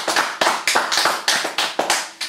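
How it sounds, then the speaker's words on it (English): An audience applauds a singer at a concert of poetry set to music, with bursts of clapping recurring in a steady rhythm, fairly close and loud, with no voices over it. "So more applause, please"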